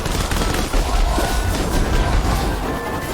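Artillery shells fired by upgraded scorpion enemies explode in the CrossCode video game, a loud, dense barrage of overlapping blasts and rumble that runs the whole stretch without pause.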